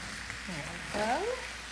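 Vegetables and multicolored cherry tomatoes sauté in a pan with a soft, steady sizzle while someone speaks over it.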